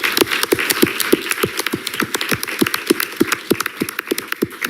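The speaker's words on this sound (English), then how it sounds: "So if we can give a round of applause to Sutter Middle School," Applause for a middle school at a school district board meeting, a few people clapping in a steady, sparse rhythm, close and moderately loud with no talk.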